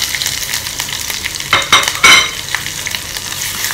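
Ginger, garlic and green chillies fry in hot oil over a low flame, with steady soft sizzling and a couple of louder scraping stirs near the middle, close and clear with no voices.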